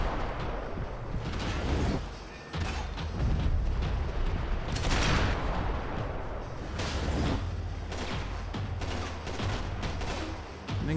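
Gunfire in the video game Max Payne 3: dense, rapid bursts of shots crackle almost without pause, loud and close, with short dips between volleys.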